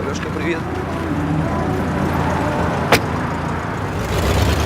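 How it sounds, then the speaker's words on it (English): A car ride to work on a Monday morning, with a steady road rumble from inside the vehicle, a single sharp knock partway through, and a rise in engine noise at the end. "Monday morning, 8 a.m., Oleg gets a ride to work."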